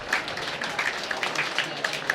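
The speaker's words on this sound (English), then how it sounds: "Warm applause around us here in Essex." Crowd at a Billericay Town versus Bath City football match in Essex giving warm applause, a short burst of scattered clapping that is moderately loud and even throughout.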